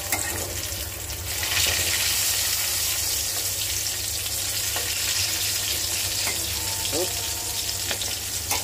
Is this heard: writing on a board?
no